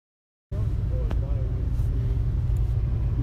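A 2017 Suzuki SV650 motorcycle riding on the road, heard as a loud, steady low rumble of engine and wind buffeting that starts abruptly after half a second of silence and continues unbroken.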